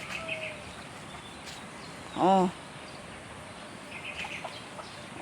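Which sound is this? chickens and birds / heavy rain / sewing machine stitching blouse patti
chickens and birds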